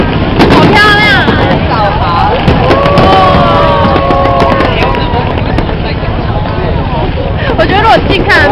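New Year's Eve 2009 fireworks go off in a series of sharp bursts, mixed with wind and excited crowd voices nearby.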